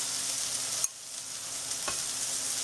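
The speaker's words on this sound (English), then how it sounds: "Now my onion is going to cook for a little bit, let's say 5 minutes." Chopped onion sizzling in a pan with oil and roasted cumin seeds, a steady soft hiss with a brief stir clatter near the start, fairly quiet throughout.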